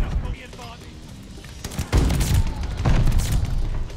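Gunfire from a slow-firing gun in the video game Call of Duty Vanguard sounds as several heavy, booming shots in irregular bursts, loud and close, mixed with game noise and talk.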